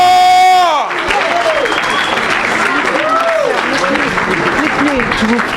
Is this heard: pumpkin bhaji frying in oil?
no